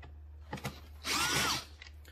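A power driver with a T25 bit spins out a screw from a panel on a 2016 Mercedes E400 cabriolet, giving a short whirring burst of about half a second, with a few light clicks before and after in a quiet garage.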